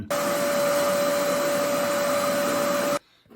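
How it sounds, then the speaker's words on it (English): A vacuum cleaner runs inside a car interior, a loud steady whine with a constant tone lasting about three seconds before cutting off abruptly. "I'll just vacuum that out."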